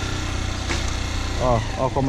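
A new motorcycle, just restarted after a crash, idles steadily and close by while someone talks over the engine.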